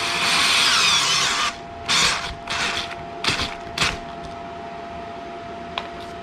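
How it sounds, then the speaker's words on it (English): Cordless power drill driving bolts into a seat mount on a Vanderhall Venice, a long whirring run followed by several short bursts as the bolts sink in, close and loud, ending in quiet. "the drill sunk it down in there pretty good"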